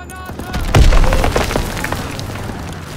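A grenade goes off in Call of Duty WW2 with a loud booming blast near the start, followed by scattered crackling gunfire and battle noise that gradually fades.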